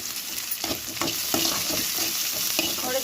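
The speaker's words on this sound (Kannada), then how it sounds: "ಪಲ್ಯಕ್ಕೆ ನಾನು ಈ ಥರ ಒಗ್ಗರಣೆನ ಹಾಕ್ಕೊತಾ ಇದ್ದೀನಿ" Tempering sizzles in hot oil with mustard seeds and dried chillies for a bottle gourd dish, a close, continuous frying hiss broken by repeated spoon-scraping strokes in the pan, no voices.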